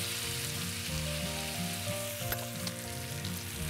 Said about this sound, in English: You can hear that great sizzle that we get from the cast iron.